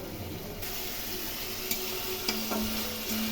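Hilsa fish being sautéed with onion, garlic, ginger and chilli paste for a Bengali hilsa and eggplant curry, giving a steady close sizzle with occasional stirring clinks and scrapes.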